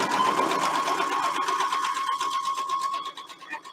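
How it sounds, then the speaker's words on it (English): A sewing machine stitches a quilt block in steady, fast, loud, close mechanical chatter, continuous for a few seconds before easing off near the end, with no talking. "I sew off and I bring it around and I go down the other side."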